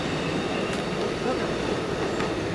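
An Amtrak passenger train rolls past at Fullerton, heading south toward San Diego, with a continuous close rumble and rushing rail noise throughout.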